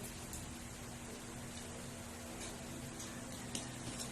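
Steady rain falls in a continuous broadband hiss at moderate level, with faint scattered drop ticks and a low hum underneath, heard throughout without clear talk.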